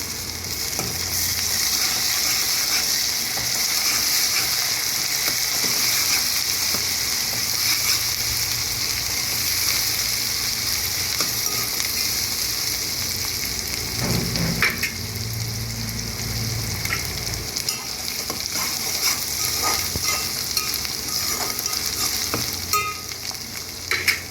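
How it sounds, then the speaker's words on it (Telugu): Ginger paste fries in a pan with onions, a bright continuous hiss and sizzle lasting throughout, broken now and then by stirring and scraping of a spoon against the pan, close and without talk. "అల్లం పేస్ట్ వేగింది కదండి"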